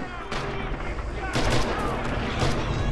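Gunfire in Red Orchestra 2: Heroes of Stalingrad arrives as loud, close bursts of rapid shots, a heavy volley near the start and another mid-clip, with steady battle noise underneath.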